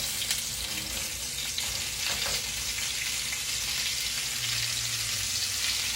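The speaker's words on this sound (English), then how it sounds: "I'm going to put my squash in it" Squash sizzles in a pan on low heat, a close, steady crackle across the whole stretch, with faint stirring and light clatter mixed in and no voices.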